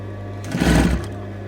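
A sewing machine runs one short, soft burst of whirring as an invisible zip is stitched into a dress.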